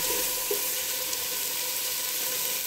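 Chicken pieces fry lightly in a pan for chicken soup, a steady soft sizzle with faint pops, alone and even throughout.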